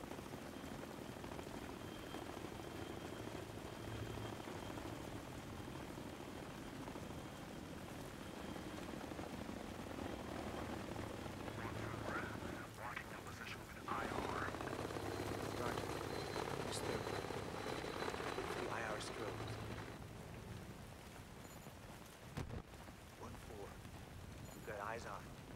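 A helicopter in the Battlefield 3 video game campaign makes a continuous rotor rumble under a night combat mission, with scattered gunfire and impacts and someone talking over the action.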